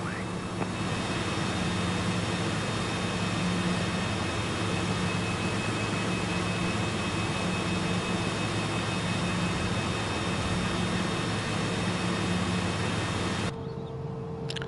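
Cessna Citation jet engine in Microsoft Flight Simulator 2024 on PS5, a steady, loud whining roar held throughout, cutting off abruptly just before the end.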